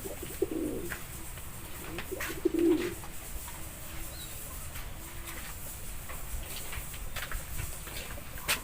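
A few low, soft pigeon coos come from birds sunning themselves before feeding, heard as brief, fairly faint calls over a quiet outdoor background.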